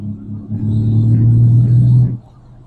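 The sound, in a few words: 1973 Triumph GT6 six-cylinder engine accelerating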